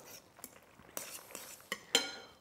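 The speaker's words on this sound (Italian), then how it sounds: "Quindi andiamo interamente a mantecare la nostra pasta a bagnomaria" Spaghetti carbonara being stirred and tossed in a bowl set over a bain-marie, with soft wet scrapes and a few sharp utensil clinks against the bowl, close and fairly quiet.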